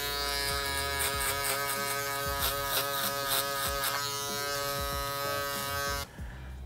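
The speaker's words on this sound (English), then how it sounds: "Okay, I'm finishing up with my shaver all the way through the other side." Electric shaver buzzing steadily through the end of a hard part comb over with low fade haircut, a loud close hum with faint pulsing strokes that cuts off abruptly near the end.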